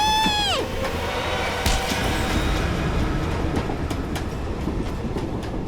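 A train in motion rumbles steadily and loudly throughout, with a descending squeal at the start and sharp clanks and knocks over the wheels' clatter; no voices.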